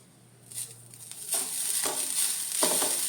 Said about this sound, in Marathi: आता आमची सोय बरे कन भाजून घेऊ जाई